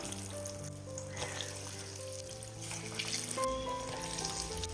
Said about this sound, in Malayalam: മുട്ടയിൽ കോട്ട് ചെയ്തെടുത്ത ഓരോ പഴവും ചൂടായി കിടക്കുന്ന എണ്ണയിലിട്ട് ഒന്ന് ഫ്രൈ ചെയ്തെടുക്കുക